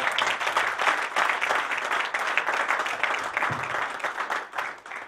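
A church congregation claps steadily in applause to acclaim the Lord, a dense, sustained roar of many hands that holds even throughout.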